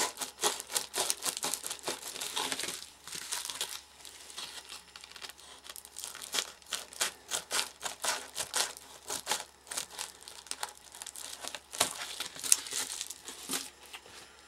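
Bag cozy material being cut in a straight line: a steady series of close crisp snips and crinkling rustles, repeating rhythmically with no talk.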